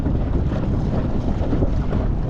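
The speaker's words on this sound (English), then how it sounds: "the wind is blowing really hard right now" Strong wind roars steadily across the microphone from a kayak pushed by a lithium-battery trolling motor heading into the wind, a dense, continuous rush with faint water sound beneath and no voices.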